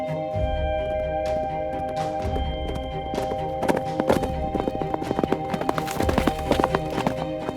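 A white Camargue stallion's hooves clatter in bursts of clip-clop beats amid a wild horse herd. Music plays underneath throughout.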